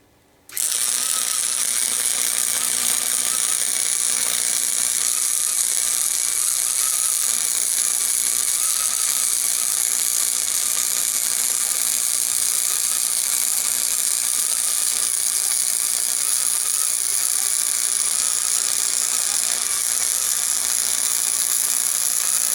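A Harbor Freight 68887 flux core welder laying a bead on metal, kicking in abruptly and then holding a steady, loud crackling sizzle without a break for over twenty seconds.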